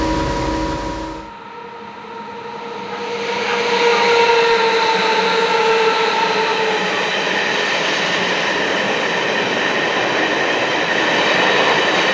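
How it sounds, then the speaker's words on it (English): An empty iron ore train rolls along the Malmbanan railway toward Kiruna. A loud, sustained rumble builds after a brief quieter opening, then carries on with steady wheel and wagon noise close by and no talk. "empty ore train returns to Kiruna for its next load"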